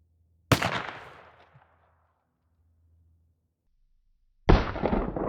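Two loud gunshots from an American Tactical .410 shotgun firing 2-1/2 inch 1/4 oz slugs outdoors, a sharp blast with a decaying echo, a quiet gap, then a second report near the end.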